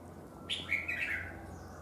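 A single brief, bright chirp and short warble from a caged red-whiskered bulbul rises over a quiet background hum, close and clear.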